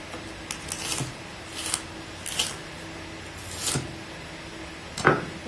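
A knife slices an onion on a cutting board in a few spaced, soft cuts, each a brief crisp tap against the board, fairly close with a quiet room in between.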